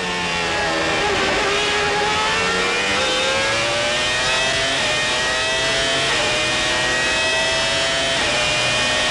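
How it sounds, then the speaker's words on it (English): Onboard a 1995 Formula One race car, a high-pitched engine screams loudly and continuously, rising and falling in pitch through gear changes and corners, with no voices over it. "Let's go on board here with Damon Hill for a couple of minutes"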